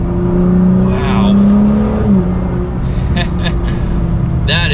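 A 2019 Nissan GT-R Track Edition engine pulls under part throttle, a loud, steady rising drone heard from inside the cabin, with someone talking over it.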